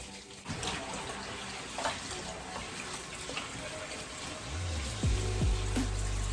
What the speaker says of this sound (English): and then I'm gonna wash off the baking soda